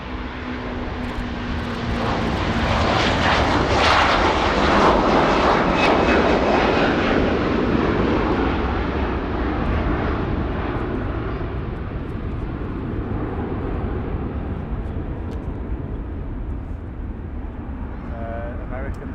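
A jet airliner at Manchester Airport lining up for takeoff, a loud broad engine roar swelling early and holding steady before easing slightly, with faint talk underneath.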